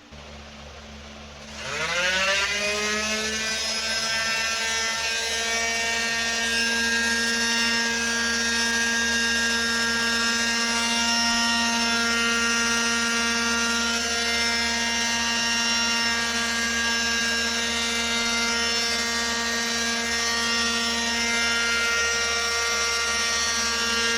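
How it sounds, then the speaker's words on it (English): Electric power sander smoothing rough wooden edges before a polyurethane finish, a steady close, loud whining buzz that starts after a brief quiet moment and runs on unbroken, with no talking. "So I'll go over those with the sander, kind of clean it up."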